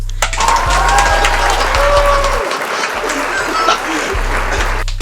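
An audience at a talk show claps steadily for about five seconds, a dense, loud patter of applause filling the room with no one speaking.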